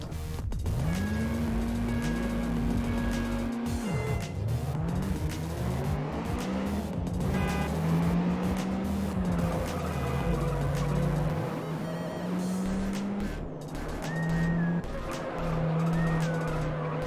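Race cars in the video game Juiced roar continuously with rising and falling engine pitch through gear changes, and tires squeal in skids, all loud and steady throughout.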